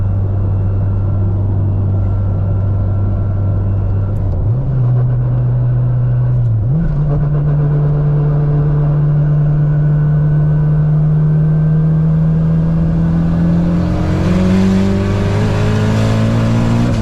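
A Hemi-powered car revs hard and spins its tires, a loud sustained engine roar stepping up in pitch through several rises, close and dominant throughout with no talk.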